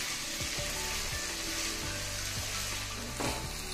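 Cauliflower fries in a pan with a loud, continuous sizzle and crackle, broken by repeated scraping stirs, close up with no talk.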